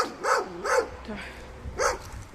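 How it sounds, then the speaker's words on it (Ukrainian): A dog barks three times nearby at a boiler house in Stebnyk, Lviv region, Ukraine, short deep woofs with a pause before the last one. "але тут є пес"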